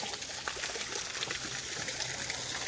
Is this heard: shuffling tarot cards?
no